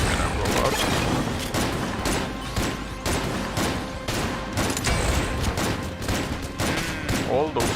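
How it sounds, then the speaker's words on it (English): Chaotic blasts and rapid gunfire in the bullet-hell game Exit the Gungeon, a dense, loud barrage of bursts and pops in quick succession throughout with a few brief high zips near the end. "All those things are gonna blow up."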